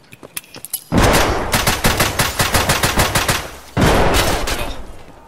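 Gunfire rings out in the shooter game Escape from Tarkov: a few scattered shots, then a loud, rapid automatic burst of evenly spaced cracks, a short pause, and a second sustained burst close by.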